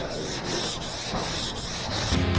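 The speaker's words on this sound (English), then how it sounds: "that all should sand fairly quickly" A sanding block rubs across wood in a continuous, fairly faint scratchy hiss with gentle stroke-to-stroke swells, heard close and alone.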